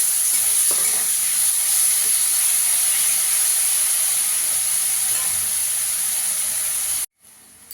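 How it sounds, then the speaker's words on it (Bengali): Onions sizzle in hot oil for a Bengali fish kalia: a loud, steady hiss of frying that runs unbroken for about seven seconds before cutting off abruptly. "পেঁয়াজটাকেও একটু লাল করে ভেজে নেব।"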